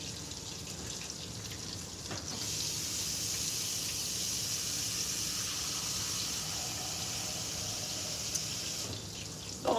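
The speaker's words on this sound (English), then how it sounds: "I'm going to go ahead and put my water on." A kitchen tap runs steadily into a pot being filled for mashed potatoes, a continuous hissing splash that grows slightly fuller after a couple of seconds.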